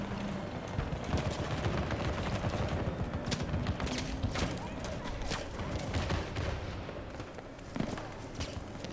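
Bursts of automatic gunfire and scattered shots in a Battlefield 2042 match, dense and continuous rattling close up with sharp individual cracks throughout.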